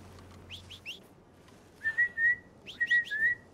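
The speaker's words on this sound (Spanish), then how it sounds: "Mira cómo silba Arthur" Arthur whistles in Red Dead Redemption 2 on PS5: after a few soft chirps, two bright sustained whistle notes ring out in quick succession, with faint ambient game noise underneath and no talking.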